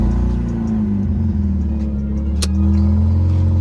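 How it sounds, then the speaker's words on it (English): A Mazda RX-8 rotary engine runs with a steady, loud low rumble, close by, with a slight rise in level near the end and a brief click in the middle. "In order to start the vehicle, you have to put the key in, turn the ignition to on"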